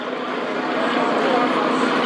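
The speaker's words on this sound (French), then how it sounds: "Vous entendez le moteur changer de son, c'est tout à fait normal parce que on a la main sur les gaz" An airshow plane flying in formation at the Aérofête de Beauce in Saint-Georges drones steadily, its engine tone shifting slightly as the throttle is adjusted, with someone talking over it.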